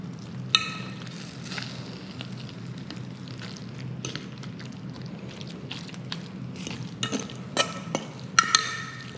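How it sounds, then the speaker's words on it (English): Pasta tossed with block feta and smushed salmon in a pan, a steady low stirring and faint sizzle with scattered scraping and clinking of a utensil, busier near the end, no talking. "We're going to mix this all together."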